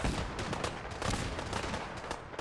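Missile launcher explosions in Fallout 4 combat rumble in a dense, continuous barrage of booms and crackling blasts, loud and close with no pause.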